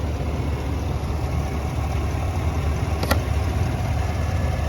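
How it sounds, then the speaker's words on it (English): A Chevy Tahoe High Country 4x4's 6.2 L V8 idles quietly, a smooth, even low hum that holds steady without knocks, with one brief faint click midway. "no ticking on the sound of the engine too. Just that nice quiet hum or purr"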